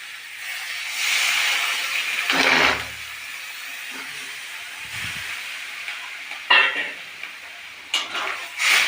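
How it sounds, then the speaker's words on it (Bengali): Water is poured into a hot pan of boiled peas for ghugni, a sharp hissing burst of steam with several sizzling surges and a few pan knocks, close and fairly loud. "যেহেতু মটরগুলো সিদ্ধ করে নিয়েছি, এখন আমি অল্প পরিমাণ জল দেবো।"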